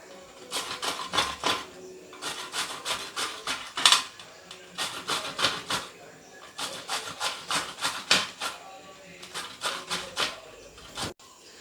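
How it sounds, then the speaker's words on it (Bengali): Raw green mangoes rubbed over the coarse side of a grater, producing steady bursts of rasping, scraping strokes in quick rhythmic runs with brief pauses between sets, close and clear with no talking. "এবারে আমগুলোকে আমি গ্রেট করে ফেলবো।"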